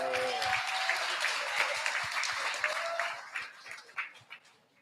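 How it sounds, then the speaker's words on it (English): An audience at a business speaking event applauding, a dense burst of clapping that carries on for several seconds before thinning out and fading, with a voice briefly audible at the start. "Clap it up for yourselves again."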